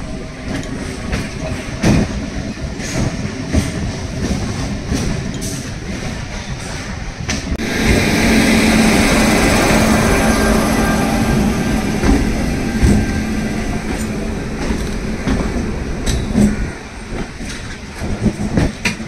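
A Goghat local train runs out from Howrah in the early dark, its wheels clattering in a steady clickety-clack over the rails. The rumble swells louder midway and keeps going throughout, with no talk.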